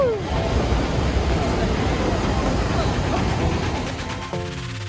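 Steady, dense roar of rushing water at Niagara Falls fills the whole clip, broad and loud from the large waterfall nearby, with a brief tonal noise near the end.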